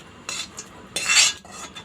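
Chana masala is poured and scraped into a serving bowl with a spoon, producing a few short metallic clinks and scrapes against the dish, close and fairly quiet.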